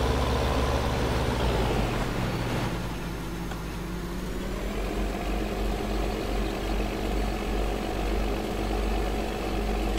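An articulated tractor engine idles in Farming Simulator 2013, a steady low diesel rumble with a faint hum on top, continuous and moderately loud without speech.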